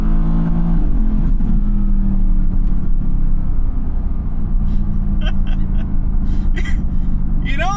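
A 2016 Mercedes-AMG GT S in race mode, a loud, deep engine rumble that holds steady and then swells as it revs, heard from inside with brief higher mechanical whines near the end.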